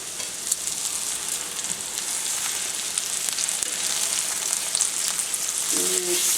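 Cajun-style stuffed chicken breasts frying in a hot pan make a loud, continuous sizzle close by that holds steady throughout, with no talking.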